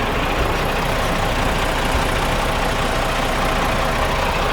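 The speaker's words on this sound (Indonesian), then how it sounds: "nih suara mesinnya juga halus sekali ya" A double-decker bus engine idles with a steady, even rumble, close and continuous with no pauses.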